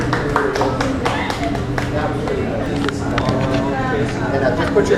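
Scattered clapping from an audience at a stage hypnosis show, moderate and uneven, mixed with crowd murmur and talking throughout.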